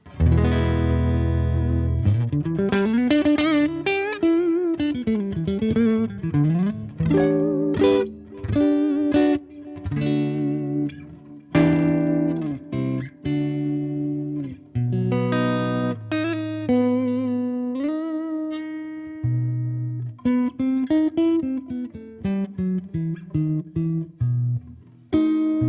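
An electric guitar played through a Boss Nextone amp on a clean tone rings out with sustained chords and single-note lines, loud and alone, with light chorus-like shimmer and reverb.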